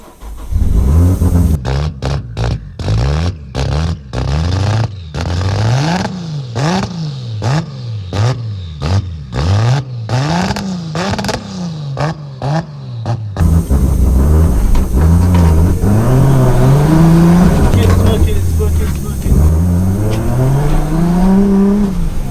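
A broken-down 700 bhp Nissan Skyline R33 cranks in a rapid, repeated starter rhythm for several seconds before catching, then roars loudly as the engine revs up and down up close.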